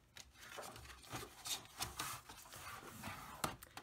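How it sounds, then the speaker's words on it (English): Scored cardstock fold lines are burnished for a fall folio craft project, giving soft, close rubbing and scraping strokes in an uneven rhythm, quiet throughout. "And then burnish your fold lines always."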